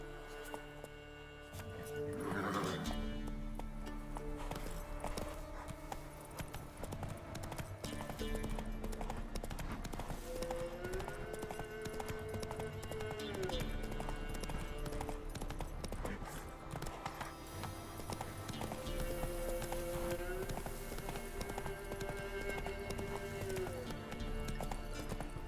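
Roach, a horse in The Witcher 3: Wild Hunt, gallops with a rapid, continuous clip-clop of hooves and a whinny near the start. Game music and effects play throughout.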